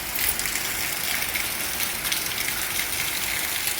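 Heavy rain pouring steadily over flooded farm fields in the Malpur area, a loud, even hiss with no breaks and no voices.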